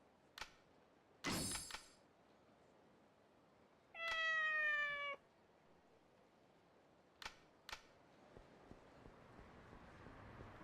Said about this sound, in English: The cats in this game are interesting.